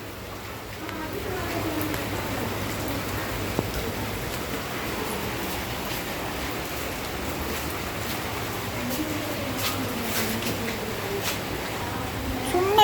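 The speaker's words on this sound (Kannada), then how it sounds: "ಮಳೆ ಬರ್ತಿದೆ, ಎಂಜಾಯ್ ಮಾಡಿ. Enjoy the rain." Rain falling steadily outdoors in Bangalore at a pet home-boarding place, a continuous soft wash of patter with a few louder drips, while voices talk now and then.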